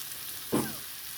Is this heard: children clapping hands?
no